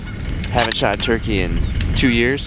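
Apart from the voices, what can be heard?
geese honking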